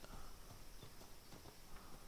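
Horses in the pirate survival video game Atlas plod along with soft, regular clip-clop hoofbeats, faint and a little distant beneath a wash of ambient game noise.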